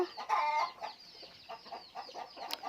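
Chickens cluck in a henhouse, with repeated short clucks and a squawk near the start, close and moderately loud, with no talking.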